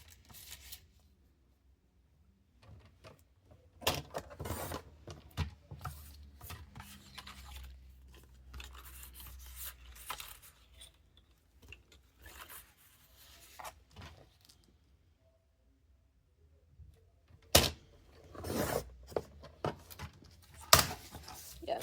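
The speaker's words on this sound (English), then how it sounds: "A little paper cutter, so just gonna line it up." A small paper cutter trims excess paper pieces, with scattered crisp slicing and rubbing strokes and short quiet gaps between bursts of handling noise.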